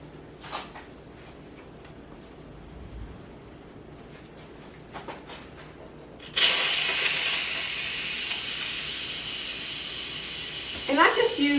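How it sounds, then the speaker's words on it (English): Steam hisses loudly and steadily from the valve of an Instant Pot during a quick pressure release, starting abruptly after a quiet stretch of faint clicks and handling sounds and continuing strongly to the end. "now I'm going to quick release the rest of the pressure"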